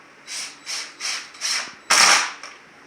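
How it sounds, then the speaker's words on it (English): Screws are driven into a wooden shelf with a power driver in four short, evenly spaced whirring bursts, followed by a louder, longer final burst. "We're just going to put 3 screws in it to hold it on."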